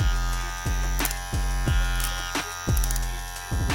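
An electric hair clipper fitted with an Andis cutter blade runs with a loud buzzing hum, the motor surging and dipping in repeated pulses about every half second, heard alone without talk.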